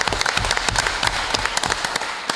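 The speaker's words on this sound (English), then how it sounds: "Let's give him an applause." A council meeting audience gives a police officer a brisk round of applause, dense hand clapping that fills the room steadily from start to finish, with no talk over it.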